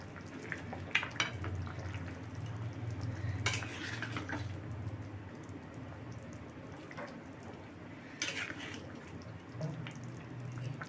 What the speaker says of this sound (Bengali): গরম মশলা দিয়ে নাড়িয়ে চাড়িয়ে নামিয়ে দেবো